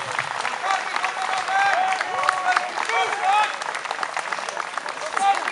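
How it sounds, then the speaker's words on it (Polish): Audience applause at an outdoor memorial-day battle reenactment in Parcice, steady clapping from a crowd with scattered voices and whistle-like tones mixed in, sustained throughout. "Duże brawa. Proszę dla tych dyrektorów."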